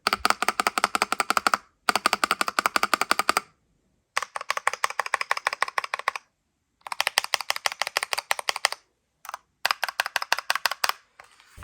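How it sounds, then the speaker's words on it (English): Deep, thocky spacebar presses on a stock Keychron K2 Pro mechanical keyboard with brown switches, in rapid bursts, each run of repeated clacks separated by short silences. "Listen to this spacebar."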